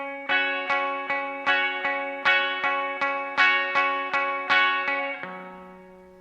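Electric guitar with chorus, echo and light distortion plays a riff, a steady run of about twelve picked notes over a ringing drone, alone and clear, ending on a lower sustained note.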